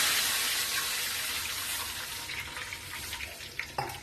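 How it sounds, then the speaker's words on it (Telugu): Water poured from a glass into a pan of hot ghee sizzles with a steady, close hiss for about four seconds, ending in a couple of sharp clinks. "ఇదే గ్లాస్తో వాటర్ పోస్తున్నాను ఇలాగా."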